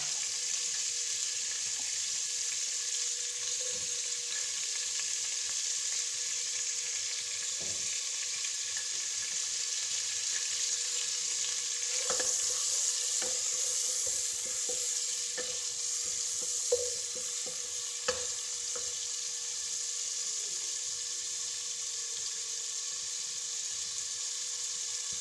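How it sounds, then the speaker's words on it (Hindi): Onions of medium size frying in melted butter make a steady, soft sizzle that holds through the whole stretch, broken by scattered faint scrapes and clinks of stirring, with no talking. "मैंने इसमें प्याज ऐड कर दिए।"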